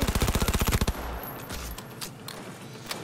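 Automatic turret fire in the video game Cyberpunk 2077: a rapid, loud burst of evenly spaced shots lasting about a second, followed by scattered combat noise and faint background activity.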